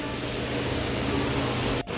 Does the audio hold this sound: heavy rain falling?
yes